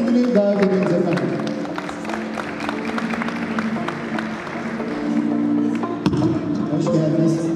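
An audience at a Maltepe Municipality event applauds to welcome deputy mayor Melih Borzüngül with sustained, fairly loud clapping that falls into a steady rhythm, with a busy hall murmur underneath.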